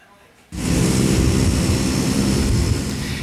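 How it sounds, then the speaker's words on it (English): An Air Canada 74-seat Q400 turboprop airliner roars in abruptly after a brief quiet moment, then holds a loud, steady, broadband engine and propeller drone, close and continuous. "It's the 74-seat Q400 turboprop plane replacing Air Canada's 50-seat CRJ jet aircraft."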